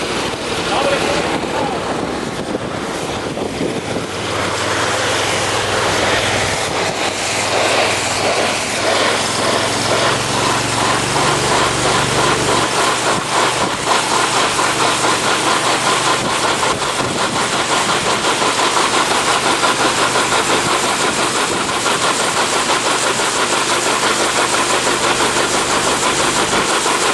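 A Hot Jet USA hot water trailer jetter engine starts and settles into a steady, loud running drone that holds for the whole stretch, with a person talking over it.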